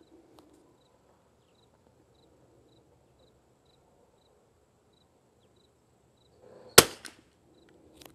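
A single sharp rifle shot from a CZ 455 firing Lapua Xact ammunition rings out near the seven-second mark, loud against a quiet outdoor background of insects chirping and faint distant noise.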